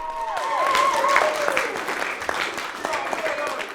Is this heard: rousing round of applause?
yes